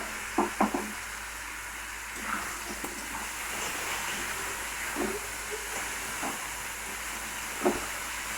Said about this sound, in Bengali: এর মধ্যে দিয়ে দেবো নারকেল কুচিয়ে রেখেছিলাম, নারকেলটা একসঙ্গে ভাজবো আমরা।